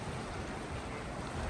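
Sea waves wash against the rocks placed to break them at a small beach on Jeju Island, making a steady, broad rushing surf with a low rumble and no voices.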